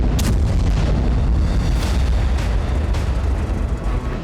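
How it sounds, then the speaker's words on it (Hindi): Heavy bombardment on a war front line, a continuous loud rumbling roar of blasts and booms with a few sharper impact bursts rising out of the din, no voices. "फ्रंट लाइन पर जबरदस्त बमबारी हो रही"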